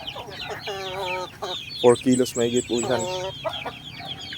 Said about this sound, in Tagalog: At ito yung tandang natin